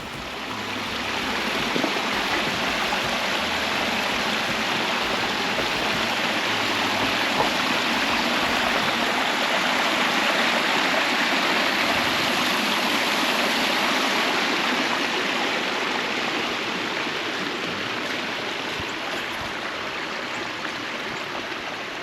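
A large backyard pond waterfall in Huntersville, North Carolina, pours with a steady, loud, broadband rush of falling water, constant throughout and heard alone.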